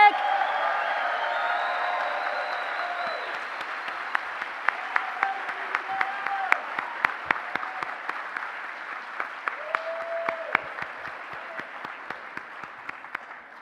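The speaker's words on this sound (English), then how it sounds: "a round of applause to our concert jazz orchestra from the Bob Cole Conservatory of Music" An audience at the CSULB convocation applauds the concert jazz orchestra from the Bob Cole Conservatory of Music, sustained clapping with cheers and whoops on top, later thinning into scattered sharp claps.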